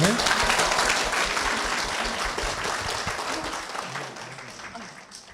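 Applause fills a church hall as a deaconess is welcomed to the front during a testimony service, a dense steady wash of many hands that slowly fades toward the end, with voices mixed in.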